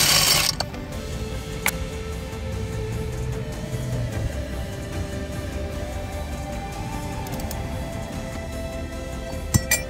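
A ratchet works bolts loose from the AC compressor bracket on a Jeep Patriot, heard as a continuous close mechanical clicking and whirring over steady shop noise, with a few sharper clinks.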